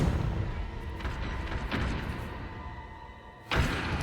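The Confringo blasting spell is cast in the video game Hogwarts Legacy, giving a couple of muffled thumping blasts followed by a sharper burst near the end, over a low game background.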